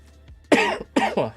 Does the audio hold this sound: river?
no